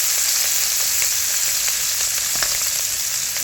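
Small fish frying in hot oil in a village-style kitchen, a loud, constant crackling sizzle with scattered sharp pops and spits close up.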